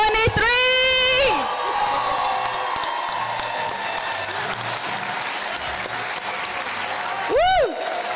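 A crowd at a high school college signing day cheers and applauds for the graduating class of 2023, a loud sustained wash of clapping and shouts with whoops rising near the start and end.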